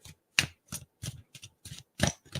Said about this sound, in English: give those a little bit of a shuffle